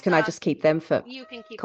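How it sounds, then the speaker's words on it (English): A cat meows briefly in a short gap between people's voices, the thin tonal cries mostly buried under nearby conversation. "There's a cat begging for attention. I can hear them."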